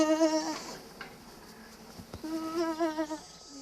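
Sheep and lambs bleat on a farm in two clear calls, each a wavering, nasal cry with a quiet pause between them over soft outdoor background.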